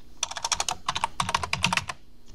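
Quick, steady keystrokes on a computer keyboard, typing a job name for a Google Forms and Autocrat merge, with clattering taps close and clear and no voices.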